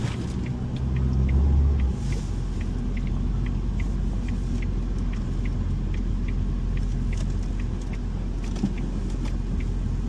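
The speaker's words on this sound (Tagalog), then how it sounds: "Kapag bumili ka ng bagong Fiesta, dapat ganyan ho, yung takbo. Ano siya, smooth." A Ford Fiesta engine runs smoothly with a steady low rumble, heard from close by at an even level with no voices.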